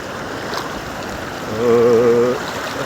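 Rain-swollen stream water rushes and burbles steadily at close range, a continuous broadband wash, with a brief low tonal hum rising over it midway.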